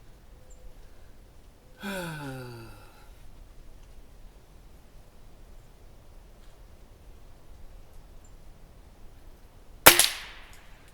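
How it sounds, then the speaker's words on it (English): A shot from a Gamo Varmint Hunter air rifle over twelve years old, firing pellets at a target: a sharp, loud crack near the end stands out from quiet background, preceded earlier by a brief muffled sweeping noise. "we're just going to have a little fun plinking with, an air rifle that's over 12 years old"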